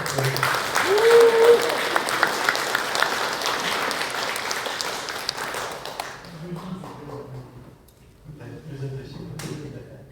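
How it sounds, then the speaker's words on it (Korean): Applause from a lecture audience at a humanities talk rises loudly for about six seconds and then stops, after which a speaker begins talking. "큰 박수로."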